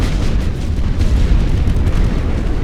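Artillery bombardment on a World War I Western Front battlefield in The Great War: Western Front, a steady, loud rumble of distant booms and blasts merging into one dense roar with no clear gaps.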